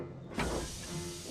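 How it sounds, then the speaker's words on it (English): Steam hissing from a steam locomotive's boiler, a broad breathy rush that swells suddenly and then holds steady at a moderate level, with low rumbling underneath. "Thomas's boiler was bubbling, and his steam was wheeshing."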